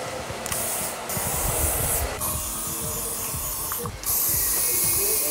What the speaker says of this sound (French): Alors, je vais utiliser la laque.